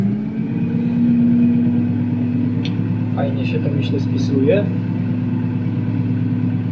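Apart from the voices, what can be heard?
tractor engine moving off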